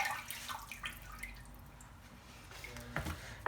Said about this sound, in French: Je vais rincer un peu les mains.